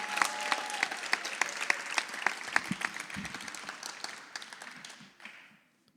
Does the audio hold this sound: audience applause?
yes